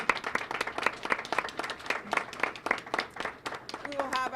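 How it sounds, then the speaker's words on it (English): Applause from an audience at a school recognition ceremony for parents, guardians and teachers, a steady patter of many hands clapping for about four seconds, ending as a voice begins to speak. "I would like to now take a moment to acknowledge other people in the room who deserve a really big round of applause."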